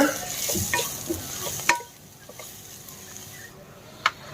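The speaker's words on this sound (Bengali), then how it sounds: "মশলাটা কষানো হয়ে গেছে এর ভিতরে সিদ্ধ করে রাখা চিকেনটা দিয়ে দেব" Boiled chicken is stirred into a cooked spice masala in a pan, giving a steady sizzle with scraping spoon strokes that ease off into quieter frying and a few sharp knocks.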